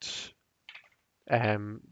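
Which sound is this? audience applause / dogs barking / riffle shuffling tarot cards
riffle shuffling tarot cards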